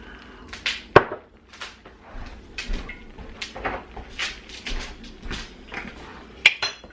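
A whisk works through thick sausage gravy in a pan with quick, irregular scrapes and taps on the metal, close and fairly loud, including a few sharp clinks, and no voices.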